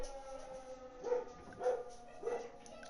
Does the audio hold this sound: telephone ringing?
no